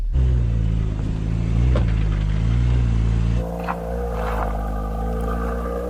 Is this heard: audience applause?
no